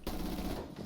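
Rapid automatic gunfire in Rainbow Six Siege bursts out close and loud in a dense, continuous rattle after a brief silent gap, then trails off into a softer tail.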